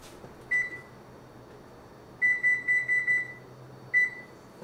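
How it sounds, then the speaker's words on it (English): An oven's control panel being set beeps in clear, crisp electronic tones: one beep, a quick run of five, then a last single beep, over a quiet kitchen hum. "I'm going to turn my oven on 350"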